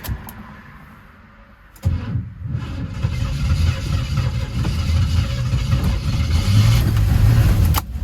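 A 1979 Camaro Z28 engine cranks and tries to catch on fuel poured down the front carburetor barrels, a rough, loud, rumbling churn that starts abruptly after a quiet lead-in and runs unevenly before cutting off.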